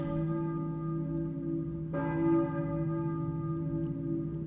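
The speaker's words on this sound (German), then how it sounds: "Ich höre eine Kirchenglocke, vielleicht?" Church bell in Silent Hill tolling with a long ringing hum, a fresh strike near the midpoint swelling and then fading slowly, clear and resonant with no talk.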